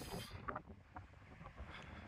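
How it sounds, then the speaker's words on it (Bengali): Strong gusting wind at the top of Fotu La pass in Ladakh, buffeting the microphone in uneven low bursts for a couple of seconds, with no talk. "এখানে এত হাওয়া দিচ্ছে, পুরো ফরফর ফরফর করছে"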